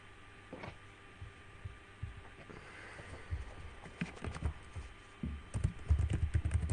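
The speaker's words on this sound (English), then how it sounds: "What are you typing?" Irregular clicking taps of keys on a keyboard, sparse at first then quicker and louder, over a low electrical hum.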